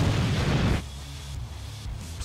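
Planted bomb detonating in the CS:GO video game, a loud broadband blast at the start that cuts off sharply after under a second into a low rumbling tail.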